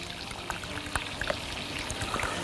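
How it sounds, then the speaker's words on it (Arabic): Cream poured into eggs with tomatoes, a soft continuous trickling pour with faint small splashes, close and quiet. "ونحط حبة كريمة"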